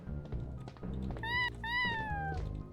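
Cat meowing in the video game Plumbers Don't Wear Ties, two drawn-out, clear meows close up over soft game background sounds and a thunk.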